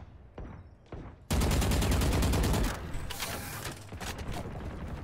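Valorant gunfire: after a few faint clicks, a loud, rapid automatic burst rattles for over a second, then fades into scattered mechanical clicks and the clatter of gear.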